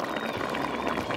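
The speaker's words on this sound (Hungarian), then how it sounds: "csodálatosan rotyog a pörkölt" Hungarian pork stew bubbles gently in a pot, a close, continuous simmering burble of thick liquid without any talk.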